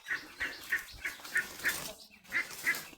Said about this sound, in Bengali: এই যে হাঁসের বাচ্চাগুলো দেখ